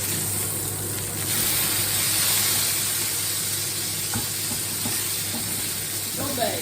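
Beef burger patties for a double cheeseburger sizzle on a hot griddle right after being flipped, a steady broadband hiss with a few light spatula clicks near the end.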